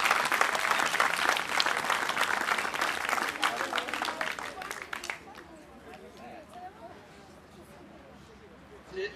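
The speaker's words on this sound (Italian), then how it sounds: "Un bel applauso per cortesia" Crowd applause at a youth football school event in Spoleto, dense clapping for about five seconds that then fades into low murmuring chatter with a brief final clap.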